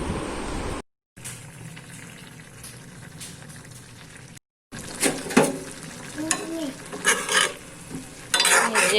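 Fish and tomato shukto curry cooks in a pan with a continuous sizzling, bubbling hiss and stirring scrapes, interrupted twice by short silent gaps and growing busier and louder toward the end.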